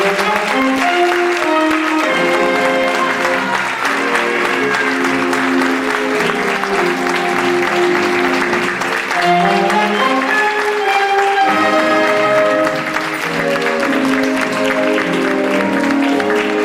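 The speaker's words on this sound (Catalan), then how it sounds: "donem un fort aplaudiment" Loud, sustained applause from a crowd greeting the fallera major at a falla presentation, dense clapping with music running underneath throughout.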